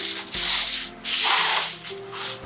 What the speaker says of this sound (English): I'm gonna go ahead and rip off my aluminum foil here.